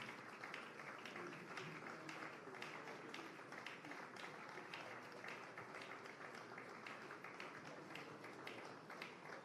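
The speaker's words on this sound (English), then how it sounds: "Let's keep the applause going as we say a very big thank you to all of our speakers." A conference audience at a Nigerian Democracy Day event gives a steady, sustained round of applause, even and unbroken throughout, heard from a distance and fairly quiet.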